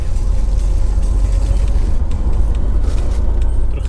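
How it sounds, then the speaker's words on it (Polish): Inside a sleeper bus travelling at night in Cambodia, a steady, loud low engine and road drone with faint rattles and no talking. "No to właśnie jedziemy sypialnym autobusem, czyli takim autobusem, który jedzie w nocy i można w nim spać."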